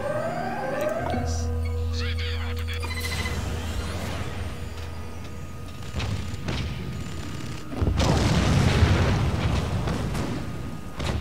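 A bomb going off in the video game Spore: a deep rumbling explosion with a sustained roar that builds and surges loudly toward the end, set against game music and effects.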